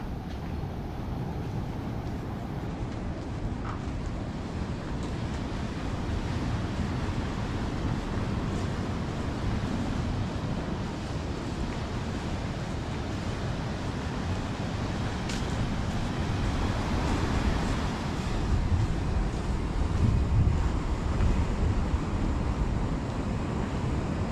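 Constant broadband roar of wind and surf at a beach, Nampu or Wediombo, steady and loud throughout with no distinct breaks or voices.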